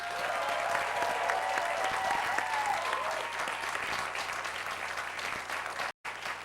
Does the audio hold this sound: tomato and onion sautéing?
no